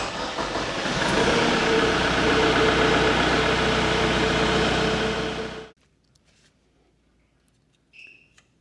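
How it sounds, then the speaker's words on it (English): A diesel tractor engine started and left to idle, running as a steady, loud, even rumble for about five and a half seconds before cutting off abruptly, followed by near silence with a brief faint noise near the end. "Go ahead, just start the engine for a few seconds and then check the oil."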